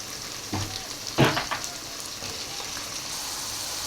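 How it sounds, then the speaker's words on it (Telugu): Eggplant pieces dropped into a pan of fried onions for a chana dal brinjal curry, a continuous sizzle broken by a few clattering bursts as they land and get stirred, with no voices. "ఉల్లిపాయలు అయితే వేగినాయి కదా, ఇందులోనే వంకాయ ముక్కలు అయితే యాడ్ చేస్తాము"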